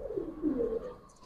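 A Giribaz pigeon, a silver-barred green-necked bird on sale, coos softly in a few low, rolling murmurs close by, with faint handling noises at the end and no one talking.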